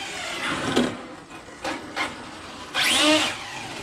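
A Traxxas 6S rally RC car on Mod 1 gearing with Hoons tires drives past in short bursts. Two brief whines come first, then a louder, longer rising whine near the end, against steady background noise.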